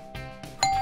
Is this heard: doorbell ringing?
yes